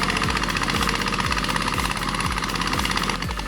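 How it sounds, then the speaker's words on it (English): A heavy logging truck's engine roars steadily and loudly as it climbs a long slope, a constant close drone with a regular low throb pulsing through it. "The engine roars with power."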